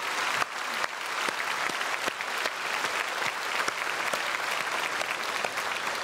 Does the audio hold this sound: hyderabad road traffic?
no